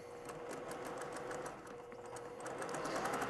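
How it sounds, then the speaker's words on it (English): A sewing machine runs in quick, even mechanical pulses, briefly pausing mid-way before resuming its steady stitching rhythm; quiet and close. "we're just gonna run this over to the sewing machine real quick. Run a stitch down that."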